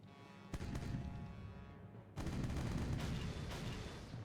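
Heavy booming blasts of cannon fire attacking a fort in the video game Age of Pirates, with a thick rumble and two sharp onsets, artillery pounding away with no speech.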